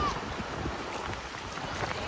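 Pressurised water rushes through the Badlapur barrage dam in a continuous, loud, close roar, while a voice speaks over it.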